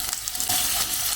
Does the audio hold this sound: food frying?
yes